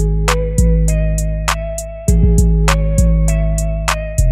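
A hi-hat sample sits inside a trap beat loop, ticking in short bright hits with a two-step pattern over booming bass and melodic notes, loud and clean with no voices.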